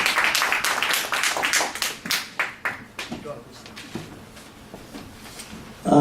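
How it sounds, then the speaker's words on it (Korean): Audience applause in a church lecture hall welcoming a pastor, a burst of loud clapping that thins and fades over several seconds. "우리 목사님 나오실 때 큰 박수로 환영하겠습니다."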